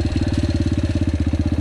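A Yamaha TTR 125L four-stroke motorcycle engine runs close and loud, a fast, even, thumping idle with a steady pulsing rhythm and no talk.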